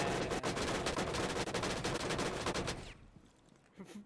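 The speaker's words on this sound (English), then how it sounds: "Beast, you were literally being sprayed by an AC-130 above." Dense automatic gunfire from the Rainbow Six Siege video game rattles in rapid bursts, loud and close for about three seconds, then cuts off into a quieter tail with a faint later thump.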